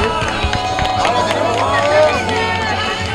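Applause and crowd noise from an audience at a sports award ceremony honoring a young player, a steady dense wash of clapping and babble filling the whole stretch.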